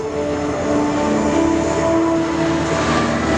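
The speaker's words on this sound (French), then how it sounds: "Coming from the right, le seul B-17 en vol en Europe aujourd'hui." A Boeing B-17 Flying Fortress bomber, the only one flying in Europe, passes at an air show with a loud, steady droning roar of its piston engines, sustained and close throughout.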